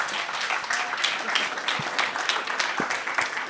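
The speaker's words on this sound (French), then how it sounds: "Je crois que vous pouvez les applaudir." Audience at a business-incubator conference in Beaujolais applauding, a steady spread of many hands clapping at moderate distance, sustained without talk.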